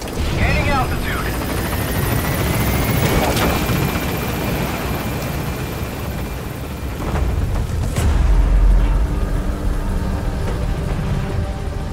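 Helicopter rotor and engine roar climb steadily in the video game Metal Gear Solid V: The Phantom Pain, a dense continuous rumble with a brief boom and a swelling surge late in the sequence.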